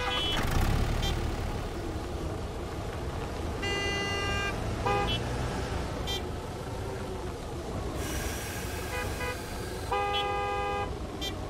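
Beeps and horn-like toots from a vehicle backing up at a gas station in Gas Station Simulator, with repeated tonal bursts over a steady engine rumble for about eleven seconds.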